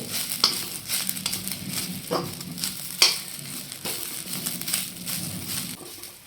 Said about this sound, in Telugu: ఆ రెక్కలు మొత్తం వేస్తున్నాను వేసి మీడియం ఫ్లేమ్లో ఒక ఐదు నిమిషాల పాటు బాగా వేగనివ్వాలి